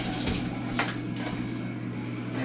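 Tap water running steadily into a sink for a kitchen rinse while making almond flour herb and cheese buns, a continuous close splashing stream with a faint low hum beneath.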